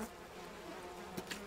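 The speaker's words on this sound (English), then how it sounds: "Don't mind me bees, I'm just gonna get some honey." Bees buzzing in the video game We Happy Few, a soft, steady insect drone sitting low in the background of a quiet scene, with a couple of faint clicks near the end.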